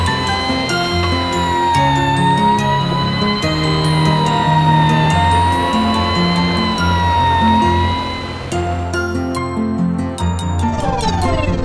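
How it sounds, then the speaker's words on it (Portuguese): A fire truck siren wails, rising and falling over bouncy, melodic music, loud and steady throughout. "Carro de bombeiros."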